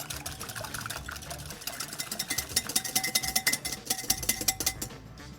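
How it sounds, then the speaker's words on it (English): Wire whisk beating egg whites in a clean bowl, a quick steady rhythm of scraping metal strokes that grows louder and more pronounced toward the end, with no talking. "Let's whisk these together."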